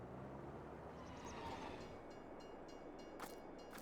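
In Farming Simulator 22, a train rolls in with a steady low rumble and rail clatter, faint overall, with a few brief higher squeals near the end.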